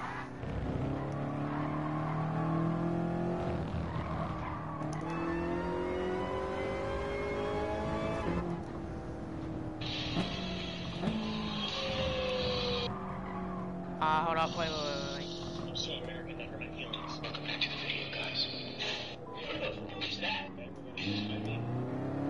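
Car engine revving in Gran Turismo Sport, an engine climbing and dropping through gears with rising whine, possible tire squeal and other cars nearby, over a steady racing drone.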